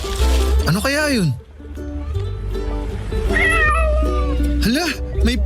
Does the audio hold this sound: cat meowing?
yes